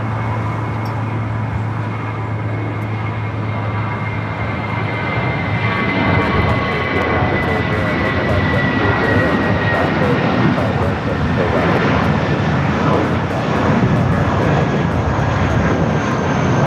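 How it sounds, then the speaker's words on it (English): An Airbus A320 jet rolls for takeoff on runway 25 right at LAX, its engine roar building steadily and continuously in the distance, with traffic noise and a voice talking over it. "A320 now rolling down to 25 at right."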